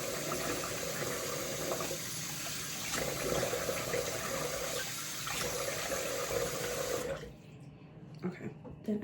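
Running water splashes steadily as a face is rinsed with a small towel during a skincare routine, a continuous close wash of sound that stops abruptly near the end, leaving quiet handling noises.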